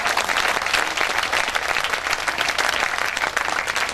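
Sustained, dense applause from a large audience at an officers' club Sharadotsav festival show in Agra, loud and steady throughout with no talk over it.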